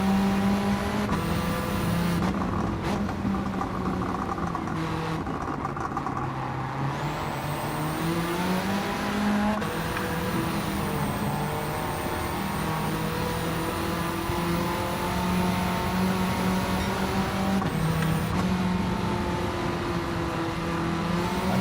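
Racing car engine in Gran Turismo 7 on a technical stage-like track, droning loud and steady for the whole stretch with pitch sweeping up and down through repeated gear shifts and revs.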